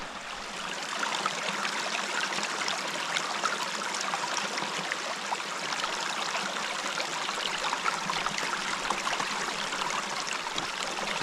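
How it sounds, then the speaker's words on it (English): A small stream trickles in the Scottish wilderness while a water bottle is refilled, a steady close rushing babble with no voices. "So I'm just going down to the little stream here to get some water filled up before we start hiking."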